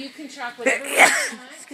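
A sudden sneeze bursts out at an arena during a horse riding lesson, one sharp loud burst, with an instructor's voice talking about tracking around it.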